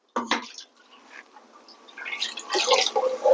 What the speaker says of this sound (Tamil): இது தண்ணி ஊற்றி தேவையான தண்ணி ஊற்றி ஊற்றிடுவோம்.